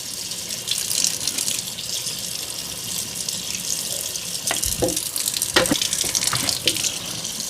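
Tap water runs steadily into a sink while a part from a Eufy S1 Omni Pro robot vacuum is rinsed, a close continuous gush with occasional splashing and clunks as it is handled.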